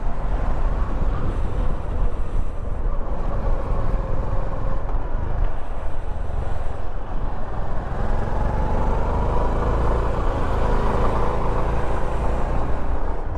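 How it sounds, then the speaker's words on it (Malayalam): Honda CB350 motorcycle riding along a road, a loud continuous low engine and exhaust rumble mixed with wind roar, steady throughout with no speech. "കിടിലും എക്സോസ്റ്റ് നോട്ട് കേട്ടോ, ഒരു രക്ഷയില്ല"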